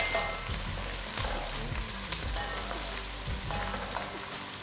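Diced onion sautéing in a hot pan for a vegetable sauce, a steady close crackling sizzle with scattered louder pops and scraping stirs throughout, no talking.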